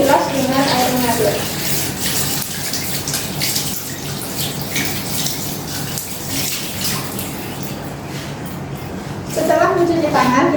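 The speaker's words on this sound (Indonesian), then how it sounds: "Setelah itu bilas dengan air mengalir." Hands are rinsed under running tap water during newborn care preparation, a steady close splashing stream throughout, with a voice speaking at the start and end.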